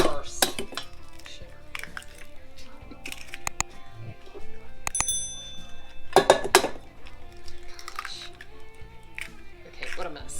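Crab cake ingredients mixed in a bowl for Maryland-style crab cakes, with clinking utensil strikes and scraping against the bowl under ongoing conversation.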